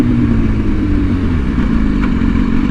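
A BMW S1000RR sport bike under hard acceleration for a power wheelie gives a loud, close, continuous engine roar that holds steady throughout, with no speech.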